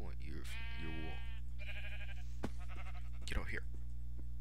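Minecraft sheep bleat repeatedly in short wavering calls during gameplay, with someone talking over them and a steady low background hum underneath.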